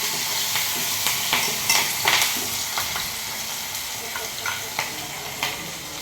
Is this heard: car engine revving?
no